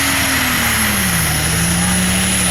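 A pulling tractor's engine revs loud and close at a tractor pulling event in Fiume Veneto, the pitch sliding down slightly, with a commentator's voice over it.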